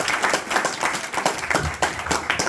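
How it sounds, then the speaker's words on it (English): An audience at a Bhakti Vriksha presentation gives a short round of applause, a crowd of hands clapping in steady, irregular bursts throughout. "Please give a round of applause."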